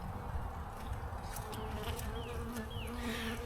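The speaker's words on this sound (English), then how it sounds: "The bees seem pretty calm" Honey bees buzz around an opened hive during an early-spring frame inspection, a steady loud droning hum close by with individual bees whining past now and then.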